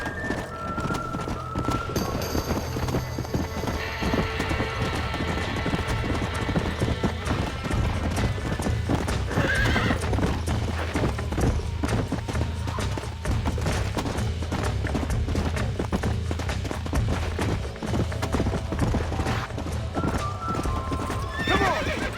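A horse gallops in the video game Red Dead with fast, continuous hoofbeats for a long stretch, loud and close, with neighing breaking in over the drumming rhythm.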